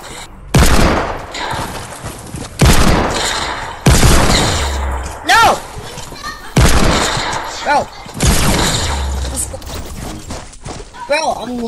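Video game gunfire in bursts: about five loud volleys of shots, each a sharp crack trailing off, separated by brief lulls, with speech mixed between them.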